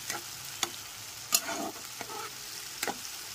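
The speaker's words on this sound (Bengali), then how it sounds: "গ্যাসের ফ্লেমটা মিডিয়ামে রেখে ভালো করে কষিয়ে নিতে হবে মশলাটা।" Spoon scraping and stirring through a cumin, Kashmiri chili and turmeric paste as it fries in a pan over a medium gas flame, a few sharp scrapes over a soft steady sizzle, close and fairly quiet.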